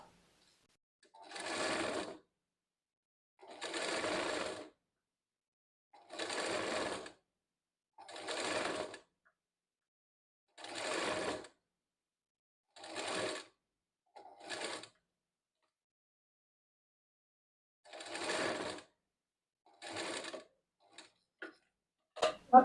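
A sewing machine stitches lace onto a blouse sleeve in repeated short whirring runs of one to two seconds each, separated by quiet pauses, with a few faint clicks near the end.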